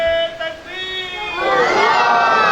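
A large crowd at a Muharram majlis roars the Haideri slogan in reply, voices swelling into loud massed shouting after a brief chanted lead.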